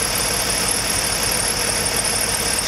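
A 2008 Toyota Tundra engine running rough and shaking, with antifreeze being drawn into it, makes a continuous, fairly loud mechanical drone with a faint squeal and uneven knock and no talking.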